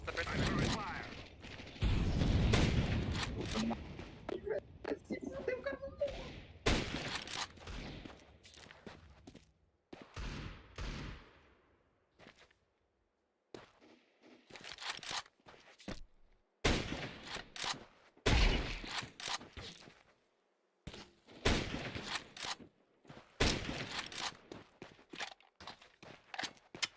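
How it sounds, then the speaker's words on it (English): Gunfire and grenade blasts from a Counter-Strike match come in sharp, loud bursts separated by quieter stretches, with footsteps and mechanical clatter between volleys. "I'm throwing a grenade"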